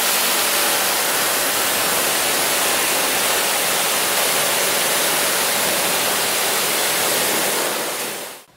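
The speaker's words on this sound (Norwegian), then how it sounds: "Så nå skal vi finne fram høytrykken" A pressure washer sprays water over a car engine bay under the open hood, a loud, continuous hissing blast that holds steady, then cuts off abruptly at the end.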